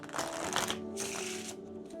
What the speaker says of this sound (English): Do one more riffle shuffle just to be satisfied.